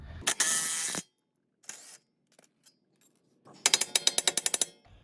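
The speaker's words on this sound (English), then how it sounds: "Gotta loosen this bolt, and then take this bracket off again" A ratchet wrench loosens a bolt on a 2016-2021 Honda Civic sedan suspension bracket during a coilover install: a short burst of mechanical noise and a few scattered clicks, then a quick run of about ten sharp, close ratcheting clicks.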